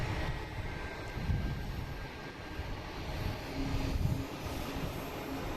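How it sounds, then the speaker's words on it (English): An Alaska Airlines Boeing 737 MAX 9 jet taking off toward Portland, heard as a distant, moderately faint engine rumble with low gusty swells and a steady hiss. "we got Alaskan Airlines taking off, heading to Portland"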